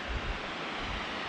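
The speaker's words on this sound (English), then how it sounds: "So let's get close-up view of the waterfall now." Steall Waterfall in the Scottish Highlands rushes in a continuous broadband roar, steady and close, with some wind buffeting the microphone.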